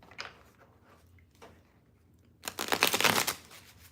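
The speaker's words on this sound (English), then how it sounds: "I'm just shuffling a little bit, and then I'll do" Tarot cards are shuffled by hand, with a few soft, scattered riffles at first and then a dense, louder burst of rapid flicking near the end, close and alone.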